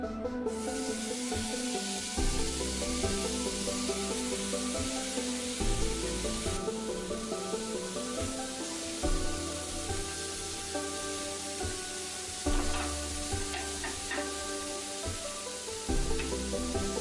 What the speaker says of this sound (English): Add meat to the pan and then close.